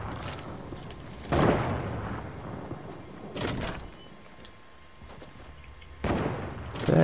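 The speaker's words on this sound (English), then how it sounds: "I'm getting shot. I traded shots with that man." Shots traded in a battle royale squad match, three loud gunfire bursts separated by a few seconds of quieter game ambience, each crack close and punchy.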